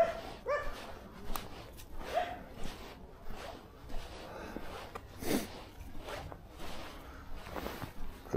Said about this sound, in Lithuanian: šunų lojimai.